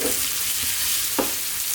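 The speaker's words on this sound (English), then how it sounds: "And then in goes our sliced onions." Sliced onions frying in a pan over above-medium heat for a spinach eggplant curry, a dense, even sizzle close up with a faint stir or scrape, no talking.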